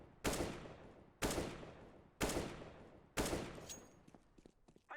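Four single AK rifle shots in CS:GO, evenly spaced about a second apart, each a sharp loud crack followed by a short decaying tail, fired alone without talk.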